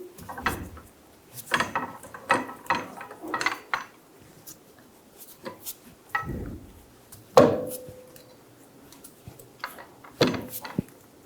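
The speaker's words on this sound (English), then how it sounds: "Lower the jack slowly." A car jack lowered slowly under the rear lower control arm of a 2011-2014 Hyundai Sonata, giving irregular metallic clicks, ratcheting and clunks at close range with short gaps between them.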